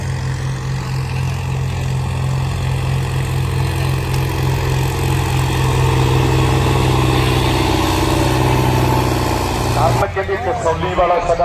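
Loud diesel tractor engines rumble and idle steadily up close at a tournament trolley-pulling event, a low droning hum that shifts near the end as other machinery sounds in.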